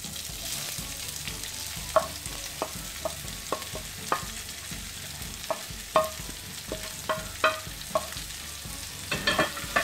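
Sliced onions frying in a pan after browned garlic and ginger, a soft continuous sizzle broken by repeated clinks and scrapes of a stirring utensil at an irregular pace, close and without talk.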